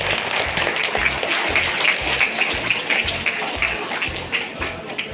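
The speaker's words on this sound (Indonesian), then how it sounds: "Ya, tepuk tangan dulu." Steady audience applause at a madrasah student gathering, a dense, continuous wash of many hands clapping with a low thumping beat underneath.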